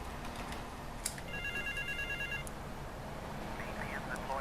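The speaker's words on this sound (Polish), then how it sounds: "no ale dobra, jest telefon" A telephone ringing in the video game GTA 3, a thin electronic trilling ring heard once amid dense game noise and a background hum, fairly quiet and partly masked.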